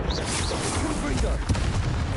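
A Confringo explosive spell blasts in the video game Hogwarts Legacy, giving booming, rumbling bursts amid busy combat noise.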